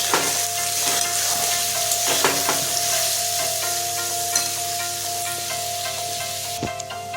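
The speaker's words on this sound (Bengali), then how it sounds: "নুন দিয়ে আলুটাকে বেশ ভালো করে লাল লাল করে ভেজে নেব।" Potatoes frying in a pan with salt and turmeric for a Vrindavan-style neem potato fry, a steady close sizzle with occasional spatula scrapes and stirring clicks throughout, no voices.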